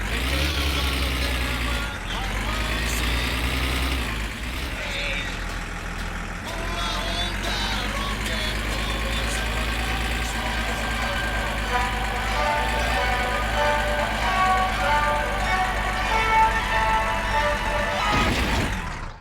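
A tractor engine runs in the driving simulation game My Summer Car, a steady, close, droning rumble with a throbbing low tone that rises and settles slightly and continues throughout.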